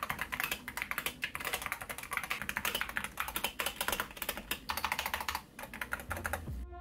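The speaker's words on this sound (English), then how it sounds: "There is a tiny bit of rattle from the keys, but that's to be expected on just about any keyboard." Rapid typing on a Wooting 60HE keyboard fills the clip: dense, close, clacky keystrokes with a slight key rattle, briefly pausing near the end before a few final presses.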